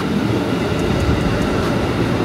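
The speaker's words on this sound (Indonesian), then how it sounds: "Oke, kereta udah sampai." A commuter train pulls into a station platform on a line toward Manggarai in the Bekasi area, a loud, steady rumble of rolling wagons with faint metallic squeals above it and no talking.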